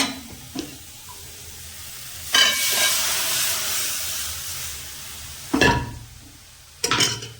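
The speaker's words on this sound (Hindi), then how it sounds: "तो अब आप इसमें डाल देना दाल जो आपको फ्राई करने हैं।" Lentils fry loudly in a tomato masala with a broad steady sizzle. Sharp bursts of hiss and clatter surge through it three times, and no one speaks.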